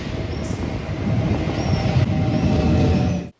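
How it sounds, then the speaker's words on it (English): A train arriving at a station on the Évora line in Portugal rumbles steadily with rolling wheel noise and a faint high whine, loud and continuous before cutting off abruptly. "Our train is arriving"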